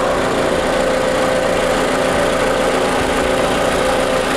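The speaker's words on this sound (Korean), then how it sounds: "엔진 소리 일정하네요" A fourth-generation Toyota RAV4 2.5 4WD engine idling close up, a loud steady hum with a constant low rumble and no talk.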